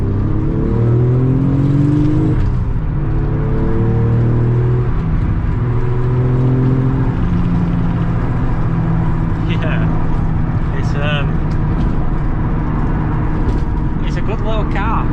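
A 393 hp twin-turbo Nissan 300ZX (Z32) engine revs and climbs through rising gear pulls, loud and close, with sweeping pitch rises in the first half, then a steady drone with faint chirps.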